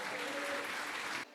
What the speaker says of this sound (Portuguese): Vamos dar uma salva de palmas para ele?